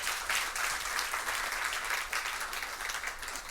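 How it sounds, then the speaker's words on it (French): Warm audience applause at a French-speaking high school competition event, a judge being welcomed: dense, steady clapping from a large crowd sustained for several seconds without letup. "que je vous demande d'applaudir très chaudement."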